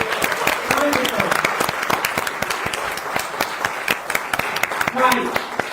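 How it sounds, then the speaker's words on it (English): Applause from an audience at a community event on migrants and refugees: dense, sharp claps running steadily for several seconds, with some talking mixed in. "so we can give another round of applause"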